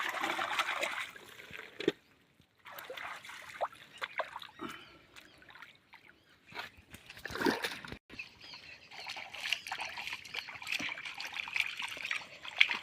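Freshly caught crabs are washed in water outdoors, making intermittent close splashes, trickles and sloshing in irregular bursts separated by brief quiet pauses, with faint background sounds.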